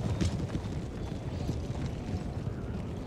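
Cavalry horses galloping in Empire: Total War, a dense continuous rumble of many hooves with battle noise, steady and moderately loud throughout.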